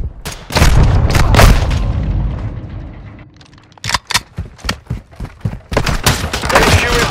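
Semtex grenade blast and gunfire in Call of Duty: Modern Warfare II, with heavy booming explosions at first, then a lull and a rapid run of sharp, loud shots in quick bursts.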